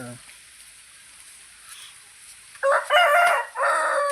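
A tethered rooster crows once, loud and near, a harsh broken cock-a-doodle-doo in the final second and a half after a stretch of quiet background hiss.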